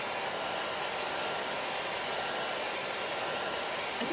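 A hair dryer blows steadily and loudly throughout, drying ink on a Chalk Couture transfer in a craft setting, with no pauses or talk over the continuous whoosh.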